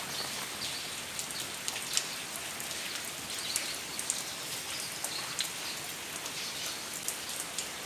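Light rain falls steadily at a home in Sattahip, Thailand, a soft even hiss of drops on surfaces with scattered louder droplet ticks, no one talking.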